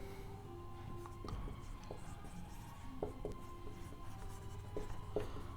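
Chalk or marker scraping on a board as a teacher writes during a maths lesson on linear inequalities, a series of soft scratchy strokes and taps over a quiet room hum.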